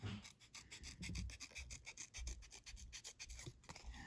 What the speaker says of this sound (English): just trim around, moving my scissors